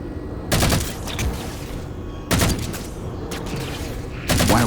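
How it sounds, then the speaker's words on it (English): Gunfire and blasts in Halo 4 come in three loud, sharp bursts separated by a few seconds, over a steady rumbling background. "Taking fire, starboard side!"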